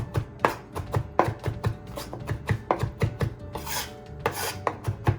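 A knife finely mincing chicken for chicken salad on a cutting board, with a brisk run of close, even chops and scraping rasps repeating steadily, interrupted by a couple of longer scraping sweeps.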